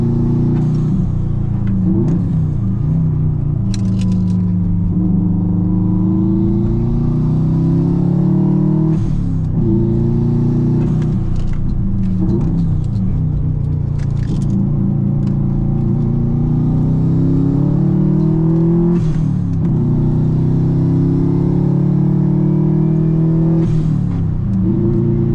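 A 2002 Subaru WRX wagon's engine revving, a loud, deep rumbling drone that climbs and falls repeatedly in pitch, with sharp blips every few seconds over a continuous low growl.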